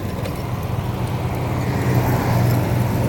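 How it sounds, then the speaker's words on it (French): Road traffic rumbles close by as a small sightseeing tuk-tuk passes, a continuous engine drone that swells slightly toward the end, with no one talking. "On va laisser passer le petit tuk-tuk de visite là"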